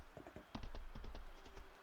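Horse hooves clip-clop in a quick, even rhythm while riding in the farming game Fields of Mistria, soft and close with a faint steady background, no talk.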